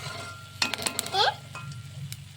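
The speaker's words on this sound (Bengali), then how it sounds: "এটাকে লাল লাল করে ভেজে নিব।" Bread slices frying in a pan for a sweet dessert: a close, steady sizzle broken by quick scrapes and taps of a spatula stirring and turning them, with a brief voice sound in the middle.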